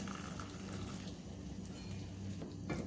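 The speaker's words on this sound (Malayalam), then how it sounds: "കുറച്ചും കൂടി വെള്ളം ഒഴിച്ചു കൊടുക്കുന്നുണ്ട്" Water is poured into a pot of dates pickle as it cooks, a steady close splashing and hissing flow with no talking.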